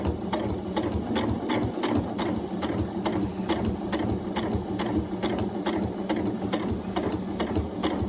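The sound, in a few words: Janome Horizon Memory Craft 9480 sewing machine sewing basting stitch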